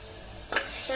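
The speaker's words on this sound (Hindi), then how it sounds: "हमारे अदरक लहसुन को हम अच्छे से भून लेंगे।" Ginger and garlic fry in a pan, a soft, steady sizzle close by, with a brief scraping stir near the middle and no voices.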